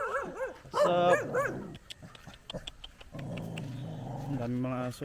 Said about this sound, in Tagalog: Ang daming mga aso.